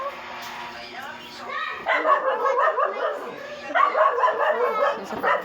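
A pet dog named Luna yips and barks in short bursts during home cooking of sautéed sardines, the calls close and fairly loud with voices talking over and around them.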